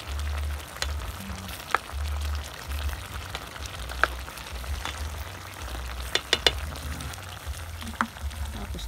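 Vegetables, including sponge gourd, alukbati leaves and squash flowers, fry steadily in a pan on a farm, with a continuous close sizzle broken by a few sharp pops and utensil clicks.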